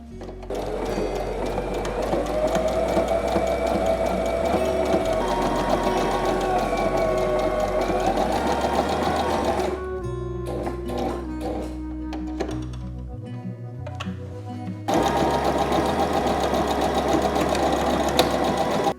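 A domestic sewing machine stitches a sweatshirt with a continuous, close mechanical hum and a rapid rattle. The rhythm shifts partway through, with choppier bursts, then goes back to steady running.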